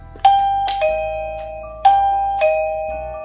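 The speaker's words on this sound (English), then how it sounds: "So we need to press the bell button." Chime of an XTU J7C wireless 2K doorbell camera sounding right after its bell button is pressed: four bright, ringing tones in two ding-dong pairs, each decaying slowly, loud and close with no speech.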